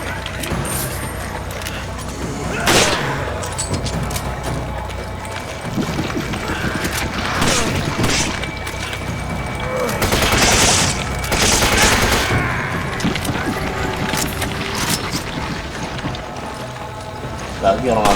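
Rapid gunfire in the video game Resident Evil 5 cracks in bursts during a fight against crowds of zombies and chainsaw enemies, loud and repeated with a player talking over it.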